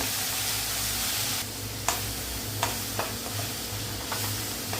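Chutney ingredients sizzle steadily in a pan on the stove, a constant frying hiss broken by a few sharp scrapes and taps of a spoon stirring them.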